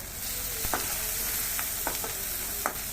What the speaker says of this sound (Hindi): ये हमने मसाला धीरे धीरे भून रहे हैं